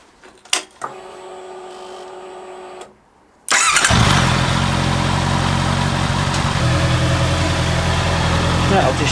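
A Honda CB650R motorcycle, woken from winter storage after an oil service, cranks and fires up, then settles into a loud, steady idle that runs close by without a break.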